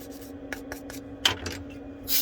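A stiff toothbrush with bristles cut short scrubs inside an iPhone 12 charging port in quick, short scratchy strokes, close and fairly quiet, with no talk.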